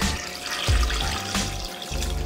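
Water is poured into a turkey black tea brine concentrate made with salt and tea bags, a steady close splashing stream with a couple of heavier gurgling surges.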